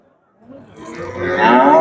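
A single cow lows in a long, rising, loud call at the busy Wednesday livestock bazaar in Shahrisabz, where cattle and sheep are traded, with crowd noise swelling around it.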